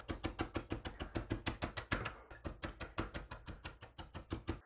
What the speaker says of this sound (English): I might actually just go over this a couple times, give it a mince.